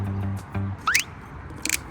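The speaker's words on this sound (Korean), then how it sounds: "아 소주 따는 거 같네" A wine bottle is opened at a Swiss winery: a faint rising squeak and a few soft clicks over quiet room noise.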